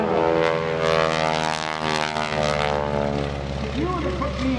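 Steady engine drone of a propeller biplane flying at an airshow during a wingwalking act, loud and continuous, with a commentator talking over it throughout.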